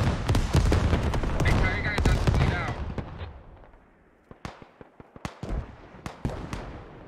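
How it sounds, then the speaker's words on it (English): Rockets explode in a military shooter game battle, a dense barrage of heavy blasts at first, then thinning into scattered sharp bangs and cracks, with a voice talking underneath. "Really good rockets, actually."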